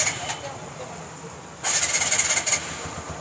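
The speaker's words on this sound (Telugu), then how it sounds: "ఓకే, బండి స్టార్ట్ అయింది." A motorcycle engine starts with a key, a short whirring crank followed by an engine catching and running with uneven pulses, close by, with voices talking around it.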